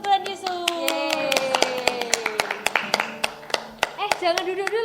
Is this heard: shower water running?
no